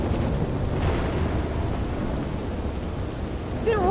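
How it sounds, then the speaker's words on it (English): Thunderstorm in the Red Dead Redemption 2 video game, with a loud steady roar of rain and rolling thunder filling the whole stretch, and a brief whistling tone near the end. "Storming again. Lightning has started."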